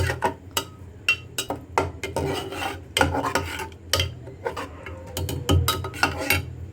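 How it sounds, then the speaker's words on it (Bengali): Dal being stirred in a cooking pot, with a spoon scraping and rasping against the metal in repeated strokes, close and fairly loud, with occasional light clinks. "এবার দিয়ে এটা ভালো করে নাড়াচাড়া করিয়ে দেবো।"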